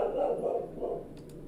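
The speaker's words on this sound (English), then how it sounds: "And my dog is barking" A pet dog barks a couple of times in the background, muffled and moderately distant, over a steady indoor hum with a voice nearby.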